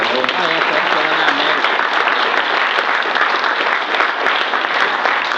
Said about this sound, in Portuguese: Palmas para o Ismael